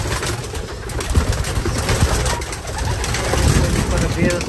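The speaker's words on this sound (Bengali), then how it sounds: "এখানে আমার ফ্লাইং লফটের ফ্লাইং টিমের কিছু কবুতর আছে" Pigeons from a flying loft coo and flutter close by as the flying team leaves, with wing flaps and soft calls over a busy outdoor background and someone talking throughout.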